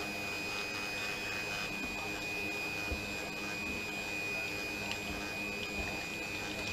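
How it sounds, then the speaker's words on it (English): An electric fan runs in a warm shed, giving a steady high-pitched whine over a constant whooshing hum, with faint knocks and clinks of kitchen work in the background and no voices. "Got my fan going today, if you can hear a bit of a whining noise, because it's quite warm in my shed"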